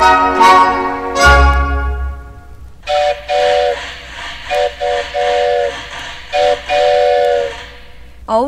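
A toy train whistle gives two bright, sharp toots, then a run of short, evenly spaced whistle blasts with a chugging rhythm, loud and close in a Christmas song recording.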